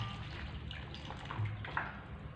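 Water poured into an LED water experiment, a continuous trickling and splashing with a low hum underneath, faint and close.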